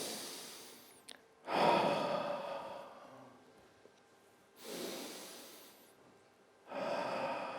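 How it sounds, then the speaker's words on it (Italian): Slow, deep breaths during a guided relaxation, three long airy inhalations or exhalations spaced a few seconds apart with near silence between, close and soft. "Chiudiamo gli occhi e cominciamo a respirare profondamente"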